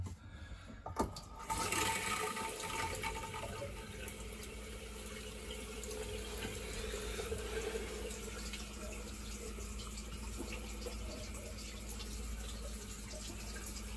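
Hot water runs steadily from a tap into a sink on a narrowboat under construction, a continuous close splashing stream that starts after a brief bump and carries on unbroken, with no talk.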